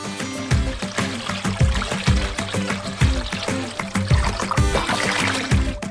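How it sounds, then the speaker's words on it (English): Water poured into a container of marinating ostrich meat, a loud, close, continuous trickling and splashing with pulsing glugs throughout, no voices. "Add more water to cover all the meat."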